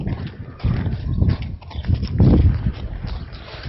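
Hooves of a horse clip-clopping on the ground at close range, a loose uneven series of thuds and knocks over a few seconds, with no talk.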